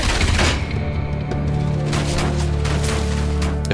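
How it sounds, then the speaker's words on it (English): Dense, continuous gunfire and explosive bursts from the game Enslaved: Odyssey to the West, involving mechs, loud and sustained throughout with overlapping shots and no talking. "If there's mechs with gunfire"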